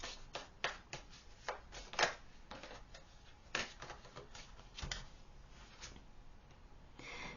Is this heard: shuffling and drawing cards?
yes